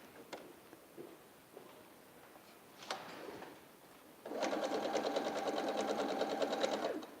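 After a few quiet clicks and handling sounds, a sewing machine starts up while fabric pieces are fed through in chain piecing, stitching in a fast, steady, close-up whir for about three seconds.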